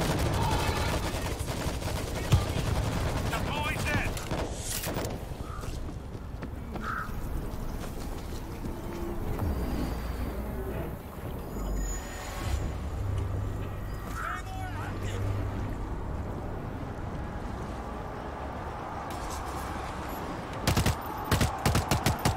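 Automated turret in the World War Z zombie shooter game firing in bursts under a busy mix of game effects, with players talking over the rattling gunfire.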